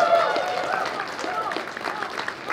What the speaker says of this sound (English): I want you guys to give a really big round of applause to every single tech person who has been helping make this show work